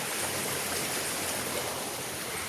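Water flows beneath a bridge in a continuous broadband rush, steady and moderately quiet, like a small stream with no distinct splashes and no voices.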